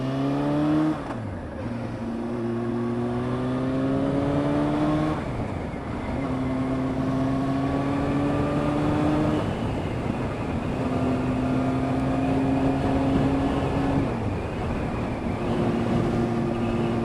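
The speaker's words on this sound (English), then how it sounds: "Taking the bike to the shop." A Honda CBR motorcycle rides along a windy road, its engine rising and falling steadily through gear changes under constant wind buffeting on the microphone.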